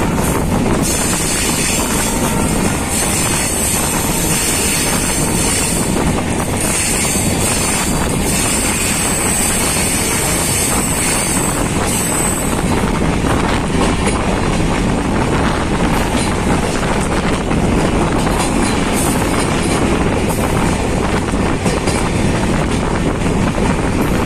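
A train crossing Dayaganj gives off a loud, continuous rumble and rattle of wheels and carriages from inside, thick with wind buffeting and high metallic squeals that fade partway through.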